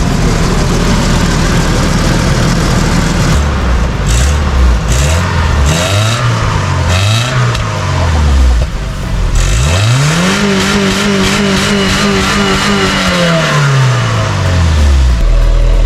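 A lowered Nissan D21 Hardbody truck revs loudly close by, its exhaust note rising and falling through several blips, then climbing into one long sustained rev before dropping back, over a steady idle rumble.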